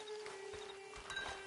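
Horse hooves clip-clop softly in Red Dead Redemption 2 Online, a few light hoofbeats over a steady ambient game tone with no talking.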